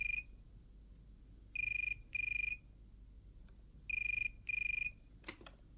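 A telephone rings in short double bursts, two pairs of electronic trills separated by a pause, clear and fairly close over a low background hum, with a brief click at the end.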